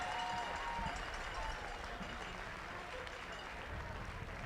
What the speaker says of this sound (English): Hill drew the penalty, and so he's earning an applause here.